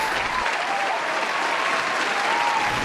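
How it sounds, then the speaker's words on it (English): Recorded studio-audience applause, a dense and even wash of many hands clapping that holds at a constant level throughout, with no voices over it. "The applause you hear is recorded."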